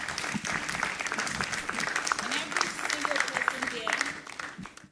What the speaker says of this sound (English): Shall we do a big round of applause one more time?